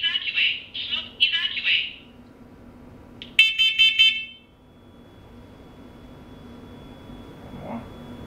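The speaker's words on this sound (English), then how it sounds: "So this is a combination smoke detector and carbon monoxide detector." A combination smoke and carbon monoxide detector sounds its alarm up close: loud, piercing beep bursts, a short pause, then a rapid cluster of beeps that gives way to a low background hum.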